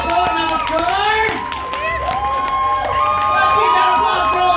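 Audience at a team poetry slam finals at an arts festival in Utah applauding and cheering loudly, with sustained clapping and whoops, shouts rising and falling across the crowd.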